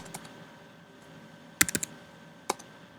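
Calculator buttons are pressed to enter numbers into a matrix editor, a few sharp clicks with a quick cluster of three to four taps, then a single press a moment later, on a quiet background.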